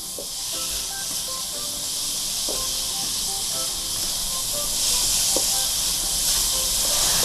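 Sugar and fish sauce sauté in a pan with a continuous, close hissing sizzle that swells slightly toward the end, with faint clinks of stirring beneath.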